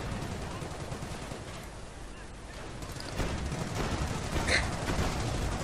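Mortar and gunfire in the World War II strategy game Company of Heroes: a dense, continuous wash of battle noise with rattling shots and muffled blasts, growing slightly louder toward the end.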